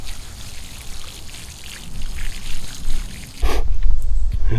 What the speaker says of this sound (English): You want to water around them so the roots can settle in and they can begin getting stronger.